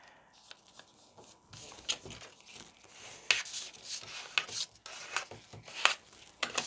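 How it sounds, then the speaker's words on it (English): Paper being pinched and folded outward into a DVD origami envelope, producing quiet close crinkling, rubbing and crisp creasing rustles in irregular bursts, with no speech over it. "I give that pinch in the center, and then I fold outward."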